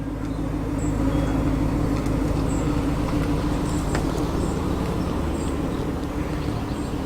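A Mark 3 Triumph GT6 with a 2-litre straight-six burbles gently past at a classic car show, a steady low engine drone with faint birdsong chirps above.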